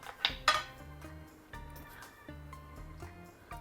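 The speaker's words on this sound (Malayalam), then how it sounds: "ഒരു പാത്രം എടുത്ത് വെക്കാം." A metal kitchen vessel is picked up and set down while pickle masala is prepared, giving two sharp clanks early on, then several lighter ringing clinks and knocks spaced over a quiet background.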